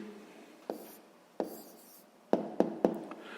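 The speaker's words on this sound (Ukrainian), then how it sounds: "записуємо тоді відповідь" A pen writes an answer by hand during a sixth-grade maths lesson, giving a few soft scratching strokes and then several sharp taps close by, set against a quiet room.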